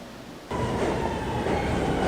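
A New York City subway train runs past, its low roar and rattling wheels swelling suddenly and staying loud and close.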